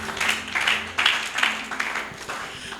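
A church congregation applauds together in worship, a dense wash of clapping that rises and falls in waves over roughly three seconds, with faint voices mixed in.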